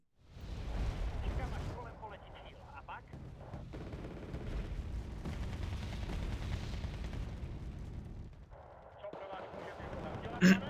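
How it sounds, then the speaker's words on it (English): Mortar barrages in the real-time strategy game Wargame: Red Dragon, a sustained rumble of repeated heavy booms and blasts rolling on for several seconds with a brief lull, loud and dense. "Look at this beautiful mortar spam, man."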